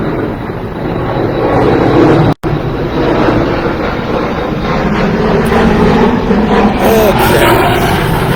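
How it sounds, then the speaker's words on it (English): An airplane passes overhead as a loud, broad, sustained roar that builds and rolls on for several seconds, drowning out the surroundings, with one brief cut partway through. "Another airplane."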